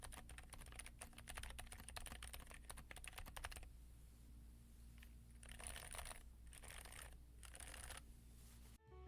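Rapid, muted keystrokes on a 70% keyboard with silent switches and a flex-cut plate patter steadily, dense at first, then in short bursts separated by brief pauses; soft, close and dampened, with no voices.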